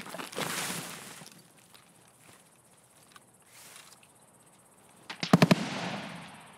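A gunshot in the shooter game Escape From Tarkov, a sharp crack with quick echoing repeats near the end, following quieter rustling and faint ambient game noise.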